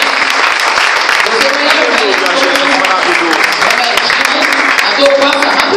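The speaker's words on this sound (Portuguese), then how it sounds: "as palmas para Jesus" A church congregation claps for Jesus during a service, continuous crowded applause with voices speaking or calling out over it throughout.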